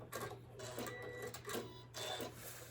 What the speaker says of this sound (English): So I just straight stitch it all the way down,